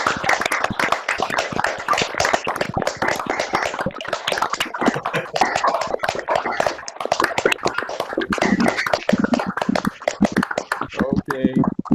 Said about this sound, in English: turn on their microphones for a huge round of applause